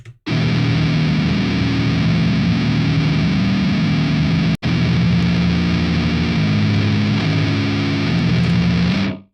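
Heavy, rumbly doom-metal electric guitar, its direct signal distorted before an amp simulator, grinding out sustained low chords at full loudness for about nine seconds with one brief cutoff midway.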